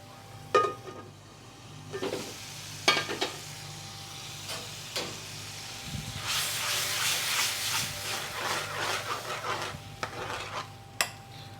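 Onions cooking for a Bengali fish curry in a pan covered by a second pan: scattered spoon clanks and scrapes, then a soft, steady sizzle rising partway through, close and fairly quiet, with no voices.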